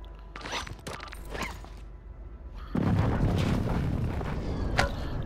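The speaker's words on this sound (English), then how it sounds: "Put airstrike on my roof." Airstrike explosions in a video game, with scattered distant booms and thuds followed by a heavy rumbling blast that leaves a sustained roar for several seconds.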